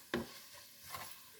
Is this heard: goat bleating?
no